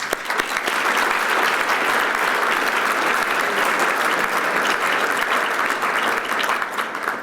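Loud, sustained applause from an annual meeting audience honoring award recipients, thick and continuous clapping with no talk on top.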